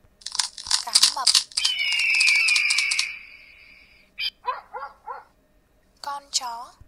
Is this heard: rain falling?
no